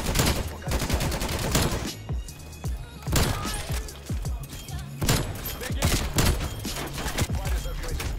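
Dense, rapid bursts of gunfire in a Call of Duty video game crackle almost continuously, with short volleys and pauses, loud and close, while a voice talks over the shooting.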